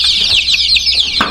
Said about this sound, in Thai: กอดไก่เรา